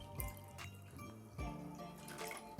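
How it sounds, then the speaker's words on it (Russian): Water is poured onto sugar in a pot to start a classic fondant icing for a Prague cake. The liquid splashes and trickles close up in short bursts, with no talk. "К сахару добавляем воду"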